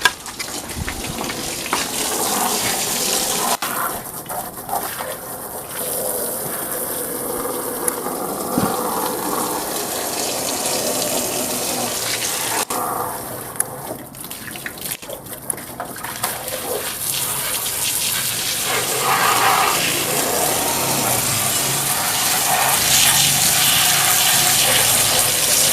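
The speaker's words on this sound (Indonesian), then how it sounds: "Sekarang hidupkan kerannya. Kerannya dihidupkan" Tap water runs steadily into a front-loading washing machine through its fitting, a continuous loud hiss and splash with a couple of brief interruptions, and no talking.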